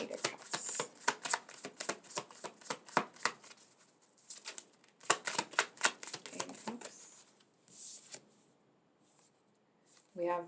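Tarot cards are shuffled in quick riffling bursts, crisp and close, with a pause partway through. A voice speaks briefly at the end.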